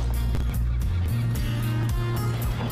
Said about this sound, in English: See that damn bird trying to steal my chum?